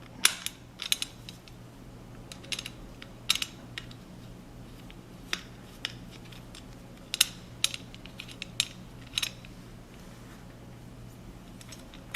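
A Phillips screwdriver backs screws out of a pendant light's ceiling canopy, giving sparse, quiet, irregular clicks and small metallic ticks over a low steady room hum, with no talking.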